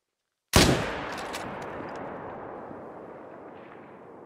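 A single rifle shot fired at a deer in the hunting video game Call of the Wild, about 205 yards away, cracks loud and sharp, then a long rolling echo fades slowly over several seconds.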